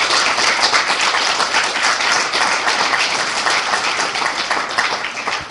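Sustained, dense applause from a high school audience at a Rotary speech contest, steady and fairly loud throughout with no talking over it.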